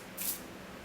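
A single short hiss of Drybar heat protectant mist sprayed from a pump bottle close by, a quick soft burst that fades within a fraction of a second against quiet room tone.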